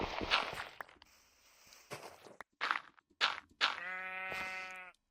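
Several short bleats from a Minecraft sheep, separated by brief pauses, ending in a longer wavering bleat, close and fairly quiet with faint footstep-like taps.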